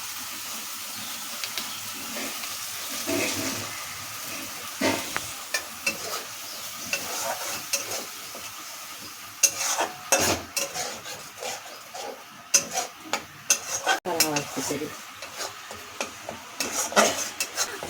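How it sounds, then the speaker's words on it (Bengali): A spice paste of green chilli, ginger and cumin poured into a pan and stir-fried with pumpkin: steady scraping of a spoon against the pan over a continuous sizzle, close and busy, with clinks of metal and no talking. "যে মশলাটা গুলে রেখেছিলাম ওটা ঢেলে দিচ্ছি।"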